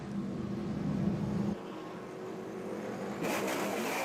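Race cars in a 2013 Rolex Series sports car race roar steadily at close range, the engine note shifting abruptly as one car gives way to another.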